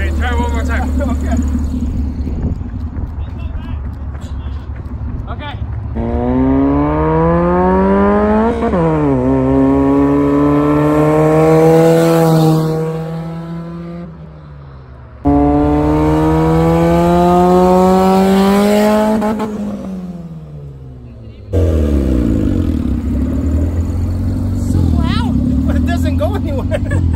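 A Honda Civic hatch with a D15 engine and a giant HX55 turbo revs hard and loud in repeated long pulls, the pitch climbing and falling, with brief dips between pulls and voices in the background.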